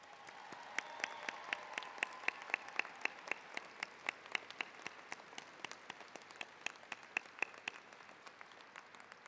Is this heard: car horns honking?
no